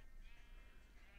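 A sheep bleats in the mobile edition of Minecraft, a faint, wavering cry sitting low under background noise.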